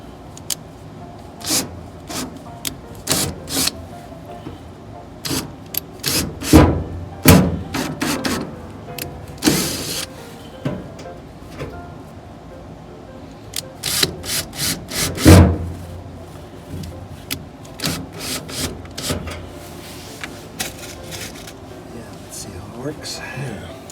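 Intermittent grinding and creaking bursts of a drywall screw being driven into hardwood as a pilot, irregular pulses with pauses, close by.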